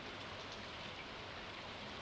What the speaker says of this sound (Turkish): Buraya aynen yağmur yağıyor.